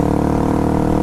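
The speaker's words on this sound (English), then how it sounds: "Check out this dude on this moped." A moped's small engine runs at a steady, buzzing pitch, close by and fairly loud, with no voices.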